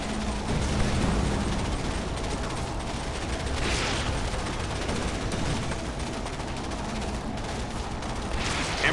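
Sustained gunfire from a Hammerhead gunship in Command & Conquer 3 Kane's Wrath, a steady dense rattle of shots over battle noise, loud and unbroken for several seconds.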